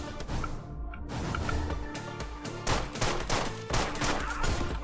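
Gunfire in the video game Deadbolt: a rapid fusillade of sharp shots in quick succession, loud and close, repeating in bursts over a bed of game music.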